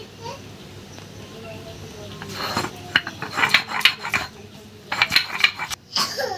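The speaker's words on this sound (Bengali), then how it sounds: "আদা রসুনটা বেটে নেব।" Ginger and garlic ground into a paste on a grinding stone in a home kitchen, heard as rough, rhythmic rasping strokes that grow louder in two bursts, with faint background noise.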